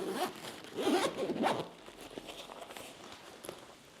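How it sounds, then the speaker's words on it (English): A double zipper slides open along the main compartment of an AER Travel Kit 2 toiletry bag, a close, loud rasping pull with two main bursts followed by quieter rustling and handling of the fabric. "So the main compartment has a double zipper."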